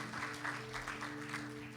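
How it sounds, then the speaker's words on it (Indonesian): A congregation claps in praise during a church worship service, a quiet, steady patter of many hands with a faint hum underneath, lasting under two seconds. "Berikan tepuk tangan bagi Tuhan."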